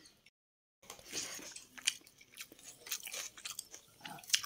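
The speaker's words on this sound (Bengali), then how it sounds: "পনির দিয়ে পেঁয়াজ দিয়ে ডাল দিয়ে একসাথে সব মাখা জাখা করে খাচ্ছি" Someone eating rice mixed by hand with dal, paneer and onion, heard as close, soft wet chewing and light crunching that starts after a brief silence, with no talking.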